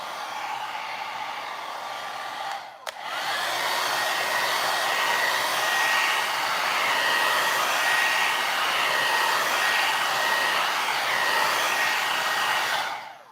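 A hair dryer drying paint on a piece of furniture being refinished blows a loud, steady hiss up close. A brief click and dip near the start, then an unbroken blast until it cuts off at the end.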